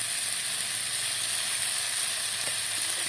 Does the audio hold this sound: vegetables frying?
yes